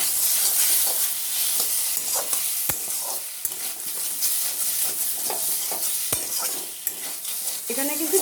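Chicken fries in a pan with a little sauce, mayonnaise and sesame seeds while being stirred, a loud close sizzle broken by sharp scrapes and clacks of a utensil against the pan.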